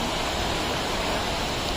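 Waterfall at Mohini Jharna in Makwanpur, a steady, dense broadband roar of falling water, close and continuous with no break.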